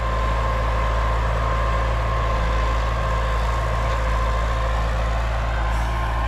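A tractor pulls an Altai plough through manured, disked soil, its engine laboring in a steady, loud drone with a constant low rumble and no pauses.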